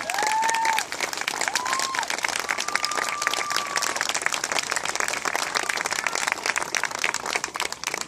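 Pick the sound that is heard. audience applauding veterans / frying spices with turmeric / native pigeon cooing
audience applauding veterans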